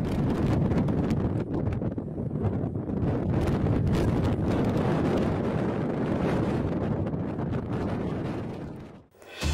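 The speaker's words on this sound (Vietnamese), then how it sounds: "một trận bão cát lớn với gió giật mạnh đã ập đến Gabès," A strong, gusting wind roars during a sandstorm in Gabès, Tunisia, with continuous loud buffeting that batters the microphone before dropping away briefly at the end.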